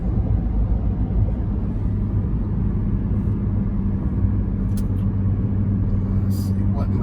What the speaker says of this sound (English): you're gonna watch the RPMs that are actually gonna drop.